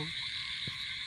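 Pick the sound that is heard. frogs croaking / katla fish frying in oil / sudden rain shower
frogs croaking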